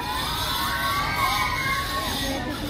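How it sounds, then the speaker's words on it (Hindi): Dense crowd noise with children and students shouting on school or college grounds while preparations go on, a steady loud wall of voices without pause. "अंदर घुसते ही बहुत सारा चिल्लाना शुरू कर दिया, शोर हो रहा है बहुत"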